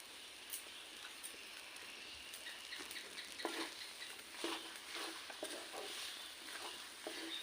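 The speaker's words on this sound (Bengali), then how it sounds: "এখন দিয়ে দেবো পেঁয়াজ কুচি।" Chopped onion frying in a pan for a Maggi noodle snack, a soft continuous sizzle with occasional light stirring taps, fairly faint and close.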